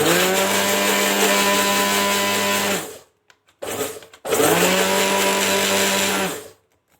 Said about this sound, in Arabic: هنضرب بقى كويس ايه البيض مع الفانيليا علشان ريحة